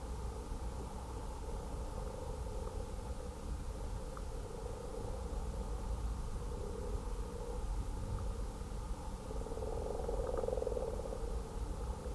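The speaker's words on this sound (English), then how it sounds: "Frog in the distance, stirring things up." A frog croaks faintly in the distance under a steady hiss of outdoor background noise, its calls swelling slightly toward the end.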